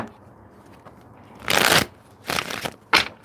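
A tarot card deck is shuffled three times by hand, each shuffle a loud riffling burst, the first longest and the last shortest, over a quiet room.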